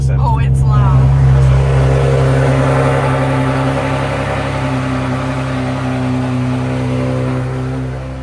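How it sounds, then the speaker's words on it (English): A loud car engine fires up from a cold start with a brief cranking burst, then settles into a steady, heavy, droning idle heard up close for several seconds. "cold start. This car is very loud."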